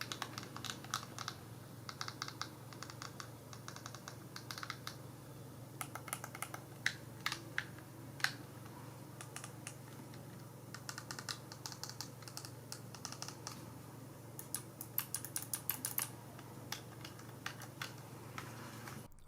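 Buttons on a GameSir X2 Pro Xbox mobile game controller are pressed again and again, giving sharp, crisp plastic clicks in quick irregular runs and single taps, quiet and close with no voices.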